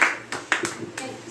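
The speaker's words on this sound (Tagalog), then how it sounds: "palakpakan natin ang Panginoon" A church congregation claps in scattered, uneven bursts of a few sharp claps, moderately close, with a voice faintly present.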